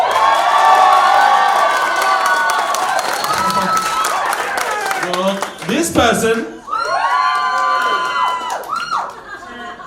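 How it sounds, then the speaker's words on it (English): Comedy show audience at a live stand-up gong show cheering, whooping and applauding loudly for a comedian, a dense crowd roar that dips briefly, with a host's voice over it. "Ladies and gents, make some noise for this person."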